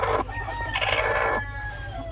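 Laying hens in a poultry shed, several birds giving loud, drawn-out squawking calls, close by, one after another.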